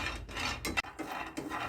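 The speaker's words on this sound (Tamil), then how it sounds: "அதை முதல்ல நம்ம வெறும் சட்டியில் போட்டு வறுத்து எடுத்துக்கிடுவோம்" Almonds dry-roasting in an empty pan are stirred with scraping, rasping strokes and light rattles, close and fairly quiet, with a brief gap between strokes.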